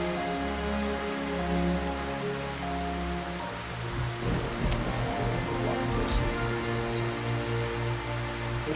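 Steady rain falling in a video game, a dense, continuous patter on surfaces with layered game music tones underneath and a few brighter splashes toward the end.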